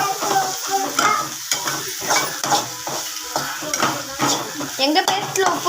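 Black pepper masala for crab curry is stirred and sautéed in a pan, with rhythmic scraping and clinking of a spoon over a constant close sizzle.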